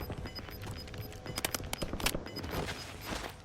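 Rapid automatic gunfire rattles in bursts during a Warzone Resurgence match, sharp repeated shots crackling over background game noise and a faint tone.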